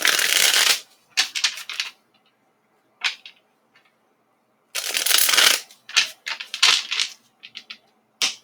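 Tarot cards being shuffled and drawn from a deck, giving close, crisp riffling bursts in two main runs separated by a pause, then scattered short slaps and flicks as single cards come off the deck.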